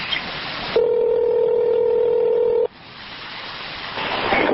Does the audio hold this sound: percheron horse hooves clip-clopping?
no